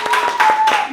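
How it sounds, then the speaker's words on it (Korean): A group in a vocal class claps hands together in a short burst, several sharp irregular claps over about a second, with a steady tone sounding underneath. "우리 박수 한번 칩시다"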